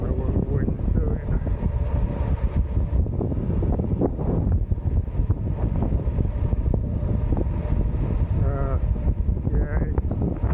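Strong gusting wind roars continuously across an exposed hillside, buffeting the microphone with loud low rumble for the whole stretch; a voice is briefly heard under the wind noise.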